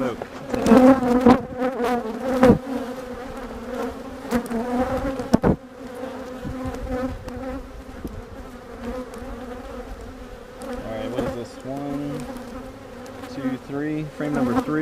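Honeybees buzz loudly and continuously around an opened hive during a frame-by-frame inspection on a farm, the droning rising and falling with sharp bumps and knocks from handling frames.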